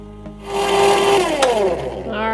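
An ice cream maker starts churning lemon ice cream mixture, a steady loud motor whir with a rising mechanical hum and some rubbing, close up and continuous.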